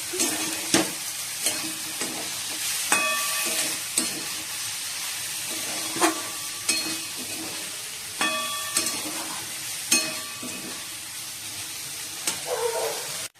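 Okra cooked dry and spicy, Bengali style, is stir-fried in a pan with a steady sizzle and regular scraping stirs that come about every second or two, close and moderately quiet.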